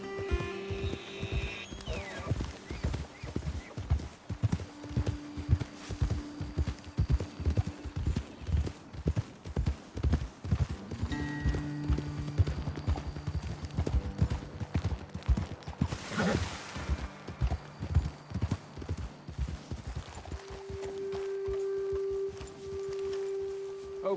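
Horse hooves clip-clop in a steady walking rhythm throughout in Red Dead Redemption 2, close and clear, over low ambient game sound, with a brief rustling burst near the end.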